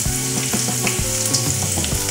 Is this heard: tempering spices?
yes